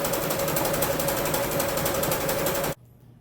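A sewing machine stitches closed the open side of a fabric strap for a homemade PPE gown, its needle whirring in a fast steady run at close range before stopping abruptly near the end.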